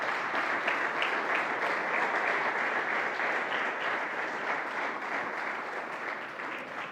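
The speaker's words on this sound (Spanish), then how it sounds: "Denle un aplauso al Rey." A church congregation applauds for the King during a sermon, steady sustained clapping from a large crowd filling the room without a break, with no talk over it.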